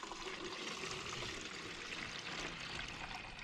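Fresh well water pours steadily into a hopper, a soft continuous rushing trickle heard close but faint, with no voices.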